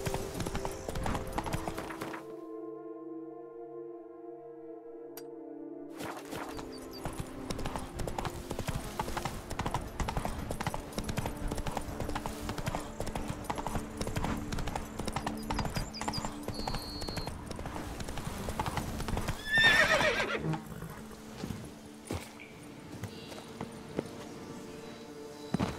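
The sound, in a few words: horse galloping, from the video game The Witcher 3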